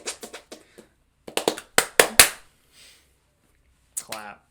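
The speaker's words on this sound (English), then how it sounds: "Clap." A handful of sharp, loud hand claps land close together in an irregular burst, set between stretches of casual talk.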